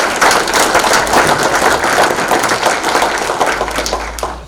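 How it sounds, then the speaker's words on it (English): An audience gives a round of applause at an informational event, with dense, loud clapping sustained for a few seconds before tapering slightly at the end. "Let's give her a round of applause."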